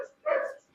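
A black-and-white or tricolor puppy, about two months old, gives a single short whimpering yelp at a Hyderabad kennel. The cry is brief and fairly close, rising and fading in under a second.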